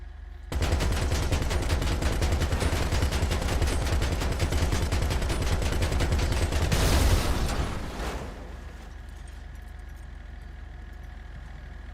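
A vehicle-mounted turret machine gun in GTA V fires one long rapid stream for about seven seconds, loud and close over an idling engine, then cuts off and leaves the engine hum.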